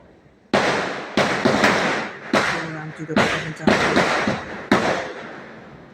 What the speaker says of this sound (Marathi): आज सगळे लोक फटाके पण फोडायला लागलेले आहेत